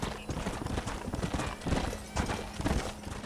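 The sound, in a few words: horses galloping in a video game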